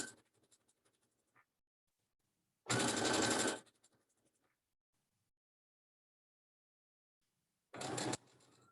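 A sewing machine stitches fabric for a carrier bag holder in two loud whirring bursts, the first about a second long and the second shorter, separated by near silence with faint handling clicks.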